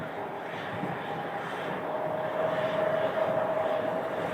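A CRJ regional jet at Phoenix Sky Harbor airport gives off a steady, moderately distant jet engine roar with a faint whine, gradually building in loudness.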